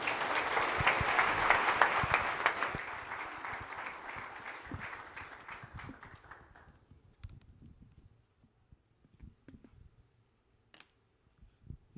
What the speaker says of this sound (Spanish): Así que recibámoslo con aplausos.